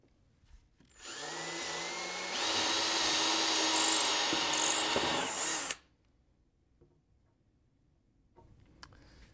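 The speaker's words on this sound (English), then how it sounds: "Now I'm just going to pre-drill the other side." Power drill pre-drilling holes in wood while building a mid-century modern TV stand: a whirring motor whine starts, rises to a louder steady pitch for a few seconds, then stops abruptly, leaving a quiet room.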